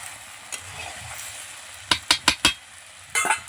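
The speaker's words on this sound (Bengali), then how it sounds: "আলু আর চিকেন মশলা সব ভালোভাবে মিশিয়ে নেব।" Potatoes and chicken being stirred with masala in a pan, heard as a soft sizzle under four quick, distinct scraping strokes of a spoon followed by one more a moment later.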